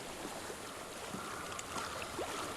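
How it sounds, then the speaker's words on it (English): Flowing water in the Hellblade video game, a faint steady wash of water streaming through a quiet outdoor setting, with no talking over it. "I hear water."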